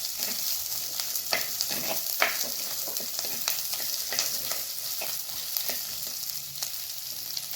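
Small onions and green chillies sautéing in a pan, a close, steady crackling fry broken by repeated light spatula strokes, no voices.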